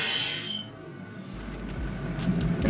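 Steady hiss of vacuum escaping as the brake booster hose is pulled on a turbocharged B13 Nissan Sentra, close and continuous with a low rumble beneath and a few faint clicks.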